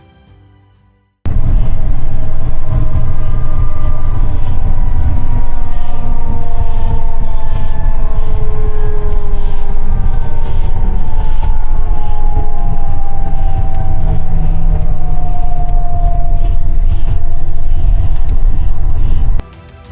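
After a brief quiet moment, a loud, steady mechanical whine from a Mercedes-Benz Travego bus engine and retarder kicks in, its tone slowly falling, lasting until the end.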